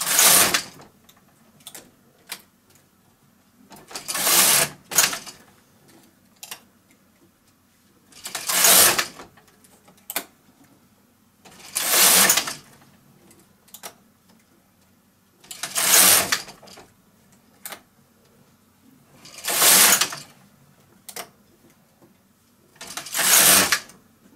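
A knitting machine's carriage sweeps across double-layer slipper work in loud rasping passes about every four seconds, with quiet clicks and handling noises between.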